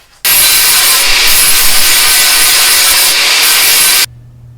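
A flap disc grinds down stitch welds on a custom trike build, a loud continuous abrasive rasp lasting about four seconds that starts and stops abruptly.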